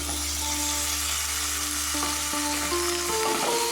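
Vegetables and softened capsicum fry in a pan for sabu poha, a constant close sizzle with a low hum underneath and a few light stirring scrapes near the end, with no speech.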